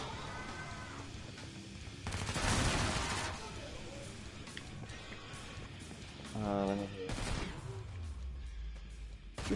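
Gunfire in a PS4 zombie shooter game: bursts of shots with a louder volley around the middle, mixed under a man's steady chatter and game noise.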